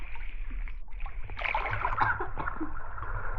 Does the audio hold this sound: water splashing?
yes